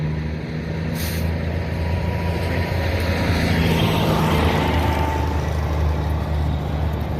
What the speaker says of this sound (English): There's still traffic now.